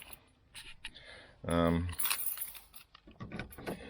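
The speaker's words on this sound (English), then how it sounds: "just gonna get my keys out to lock the car" Car keys jangle in a short metallic burst as they come out to lock the car, with softer clinks before and after. A bright electronic chirp follows, and a person talks quietly through the rest.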